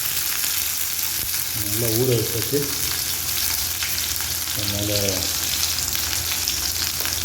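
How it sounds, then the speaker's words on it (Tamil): Marinated fish fries in hot oil in a home kitchen, a loud, continuous sizzle filling the whole stretch while someone talks briefly twice over it. "நல்லா பொரிக்குது"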